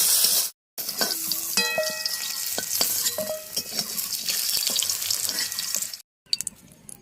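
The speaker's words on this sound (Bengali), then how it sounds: "এই তেলের মধ্যে একটু গোটা জিরে দিয়ে দিলাম" Whole cumin seeds hit hot oil in a pan for an aloo dum made with drumstick flowers, giving a loud, close, steady sizzle with crackling pops and occasional tonal squeaks, broken by two brief silent cuts.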